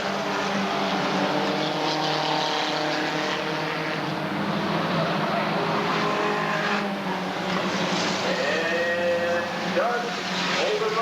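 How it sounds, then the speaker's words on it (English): Mini stock race cars roaring around a 3/8-mile oval at Redwood Acres Raceway in 1991, engines droning continuously with rising and falling revs as cars pass, loud throughout, with an announcer's voice over the racing. "Cars beginning to string out all around this 3-8 mile oval."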